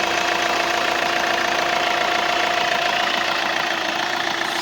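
A 2017 Hyundai i20 Sportz engine idles steadily and loudly, a constant mid-pitched rumble with a faint hum running through it, no voices.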